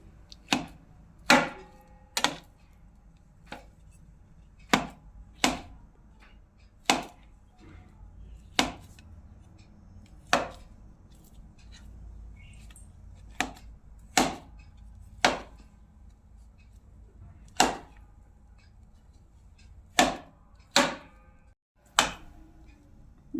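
Soft boiled potato is chopped into small pieces with a knife on a board. The crisp, close chops come one at a time at irregular intervals, with quiet background between them.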